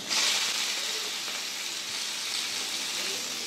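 Chicken mince for momos sizzles loudly in white oil in a hot wok, a steady, dense frying hiss that holds evenly throughout with only faint talk beneath.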